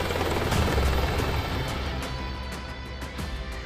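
Apache attack helicopter in flight, a steady rotor and engine roar with a louder low thump early on, then easing slightly as it continues alone.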